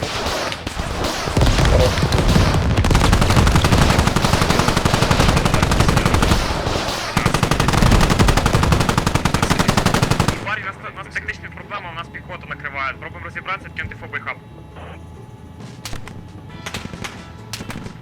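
Rapid automatic gunfire in the video game Squad, dense loud bursts for about ten seconds, then sparser scattered shots and clicks under players talking.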